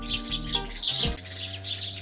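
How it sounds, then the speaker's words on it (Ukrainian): Small birds chirp and twitter continuously in the background while a low hum from a Kentavr 160V walk-behind tractor engine drones underneath. "то всі пташки поприлітали"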